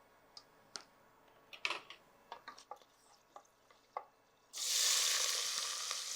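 Cinnamon, clove and cardamom hit hot oil for tomato biryani: a few faint clicks and taps, then a sudden loud, close sizzle that holds steady and slowly eases.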